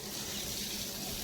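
Water sprays steadily from a motor pump hose onto a cow being washed outdoors during a cattle festival, a close, continuous hiss and splash with no pauses and no talking.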